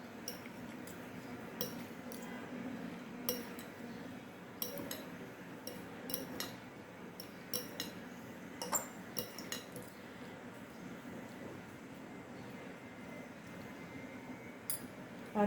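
A spoon stirs fruit salad with black pepper in a bowl, producing quiet irregular clinks and light taps against the dish over a faint background, sporadic and close, with no talking.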